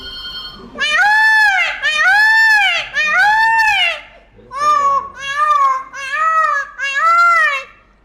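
A man mimics a peacock with a close, loud run of about seven wailing, nasal calls in two quick groups.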